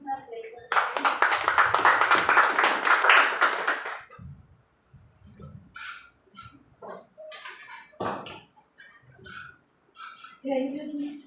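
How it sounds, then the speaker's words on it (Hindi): Audience clapping in welcome at a Mother's Day gathering, a dense burst of hand claps lasting a few seconds, followed by scattered voices talking and a few stray sounds. "तालियों के साथ वेलकम करें।"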